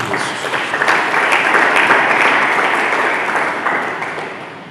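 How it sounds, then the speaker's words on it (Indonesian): A church congregation applauds during a sermon, a dense, loud wash of many hands clapping continuously and evenly, fading slightly toward the end. "Berikan tepuk tangan bagi Yesus."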